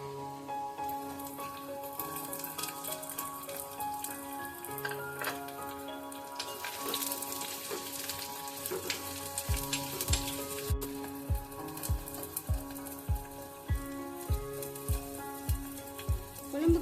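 Small shallots frying in oil in a clay pot, a steady crackling sizzle joined later by a regular ticking pulse of spatters, close and moderately quiet with no voices.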